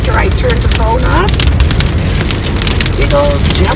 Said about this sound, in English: It's just pouring in the raindrops.